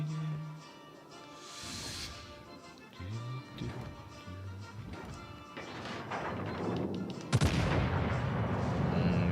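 Naval gun volleys fire from a warship in the video game World of Warships: Legends: heavy booming salvos and crashing impacts, with a sharp, loud broadband blast about two-thirds of the way through, followed by a sustained rumbling roar.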